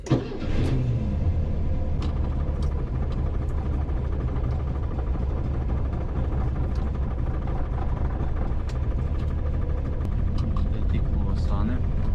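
A Zaporozhets car engine rumbles loud and close, running steadily after a brief start as the car drives off, with a deep continuous drone throughout.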